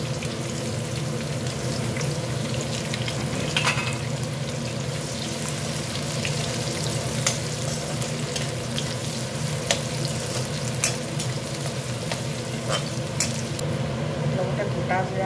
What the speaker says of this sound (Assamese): এতিয়া মই ইয়াত কুটি থোৱা পিঁয়াজ এটা ভাজি ল'ম